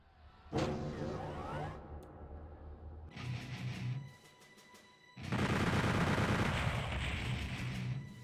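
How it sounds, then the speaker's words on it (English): A rocket launcher firing in Brutal DOOM 64, heavy booming blasts with rumbling explosions, three separate bursts, the last one longest and loudest, with no talking. "rocket launcher works swimmingly"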